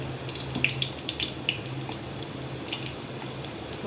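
Chopped garlic tempering in hot oil in a pan: a faint, steady sizzle dotted with small irregular crackles and pops, close by and heard on its own.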